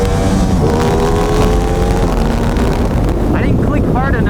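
A Yamaha MT-09 motorcycle pulls hard through its gears, its engine note climbing and shifting under heavy wind roar at loud, close range, with a rider's voice partly buried in the noise.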